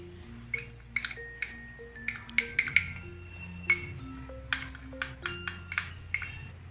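Eggs, cornflour, ground red chilli and salt are whisked together in a bowl, giving repeated bright clinks of the whisk against the dish in an irregular rhythm, close and fairly clear, with a low background hum and no talking.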